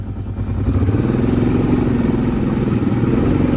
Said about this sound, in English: let's go hop on the four-wheeler and go check that out real fast